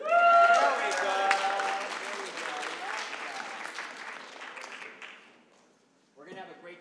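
Audience applause at the closing keynote of the California Land Recycling Conference, loud dense clapping with a voice over the start, gradually fading away, followed by a brief burst of speech at the end.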